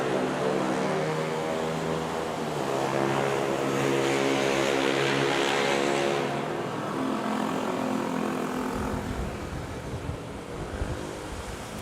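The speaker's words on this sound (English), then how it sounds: "So there's Philippine Airlines arriving from Katiklan." Philippine Airlines airliner arriving at Manila's Ninoy Aquino International Airport from Caticlan, a steady, loud engine roar that rises then eases as the plane passes, with no talking.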